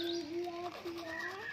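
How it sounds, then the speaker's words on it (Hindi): Small birds chirp and call in a village setting, with a pigeon-like cooing note threading through a short, steady sequence of clear, fairly close whistled tones. "चिड़िया बोल रही है।"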